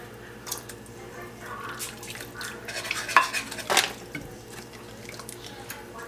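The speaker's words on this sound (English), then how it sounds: "I'm going to get my whisk out to break this down." A whisk stirs and breaks down a thick mixture in a bowl, giving soft wet scraping and brief clinks against the side that peak midway, quiet against a low background hum with no one talking.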